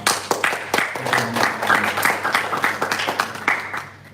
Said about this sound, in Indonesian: kita beri tepuk tangan yang meriah untuk Bapak